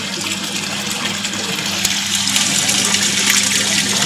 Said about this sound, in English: the orifice hole through which the water sheet is passing